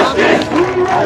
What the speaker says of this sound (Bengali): ইনকিলাব মঞ্চ ঢাকা বিশ্ববিদ্যালয় কেন্দ্রীয় যে মসজিদ, সেই মসজিদের সামনে দিকে বিক্ষোভ মিছিল বের করছে